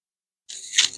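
A used Fiat Ducato camper van water pump with a dry seal is turned by hand after silence, producing a close, dry scraping and grinding rasp with a brief sharper scrape at the end.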